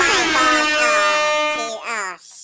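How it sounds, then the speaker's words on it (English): Air horn sound effect in a loud, sustained blast of stacked harmonic tones lasting about two seconds, then briefly dipping and restarting, heard alone without talk. "Did you get air horn? Yeah, I got air horn"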